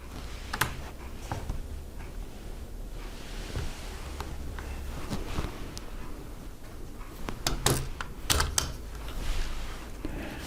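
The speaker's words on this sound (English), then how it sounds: "Let's go ahead and add this drive into that slot." An SSD drive being pushed into a laptop's internal slot, heard as scattered sharp plastic and metal clicks and ticks over a low rumble, close to the device, with a cluster of snaps near the end and no talking.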